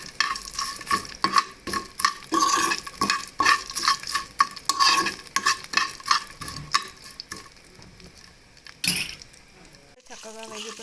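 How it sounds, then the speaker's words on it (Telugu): Urad dal and curry leaves frying in a pan for drumstick-leaf chutney, with steady sizzling and repeated spoon-stirring scrapes up close, fading toward a quieter end. "ఒక టూ టేబుల్ స్పూన్స్ మినపగుళ్ళు మినపగుళ్ళు కూడా తీసేసుకొని చక్కగా ఇలా వేయించుకోవాలి"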